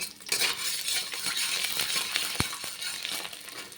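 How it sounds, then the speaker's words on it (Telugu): Garlic fries in hot oil, a busy sizzle with stirring and a sharp metallic clink from a utensil against the pan partway through. "ఇప్పుడు ఈ ఆయిల్లోకి వెల్లుల్లిపాయలు వేసి కొంచెం వేగనివ్వాలి."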